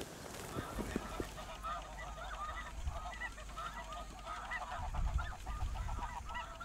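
Snow geese honking in flight over South Dakota, a large flock calling in a constant chorus of distant, overlapping nasal honks, with faint low voices and wind rumble underneath.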